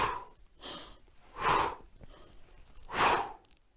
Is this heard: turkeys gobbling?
no